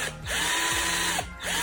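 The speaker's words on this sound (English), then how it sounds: "I'm going to drill a pilot hole" A power drill whirs in short bursts drilling a pilot hole, winding up and down in pitch with brief pauses between runs, close by.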